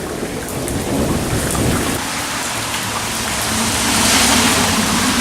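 Heavy rain pours down in Austin, Texas, hard enough to flood driveways, with a low rumble of thunder beneath the constant hiss, swelling louder toward the end; no one speaks.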